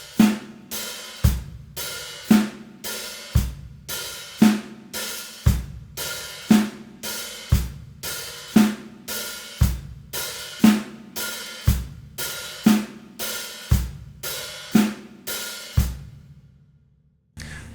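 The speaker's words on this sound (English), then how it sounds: "So it's just going to be the basic eighth note rock beat with kick on 1, snare on 2, kick on 3, snare on 4." A drum kit plays a basic eighth-note rock beat with kick and snare alternating and an open hi-hat washing on every beat, about sixteen even, loud hits in steady rhythm with no talking.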